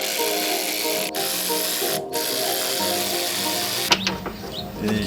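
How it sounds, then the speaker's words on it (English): A ratchet tightens bolts during a cold air intake install on a truck, its rapid mechanical clicking running steadily and close up for several seconds before a few sharper knocks of tool handling. "we're just gonna tie them down with the ratchet"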